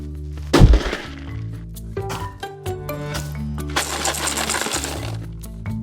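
A box dropped onto a hard floor, one sharp impact followed by loose contents clattering and rattling in a few bursts, close and clear with no talk.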